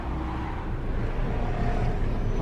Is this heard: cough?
no